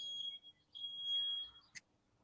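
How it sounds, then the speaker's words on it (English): A smoke alarm emits a high, steady electronic beep, followed by a short sharp chirp near the end, with no talking. "It's my smoke alarm."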